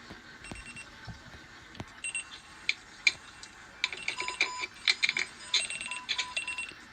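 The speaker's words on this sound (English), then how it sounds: "Holy frick, how many alarm clocks does he have?" Many alarm clocks go off together on Copacabana Beach in Rio de Janeiro at New Year, a dense clatter of overlapping rings, bells and electronic beeps that builds into a loud, irregular jangle.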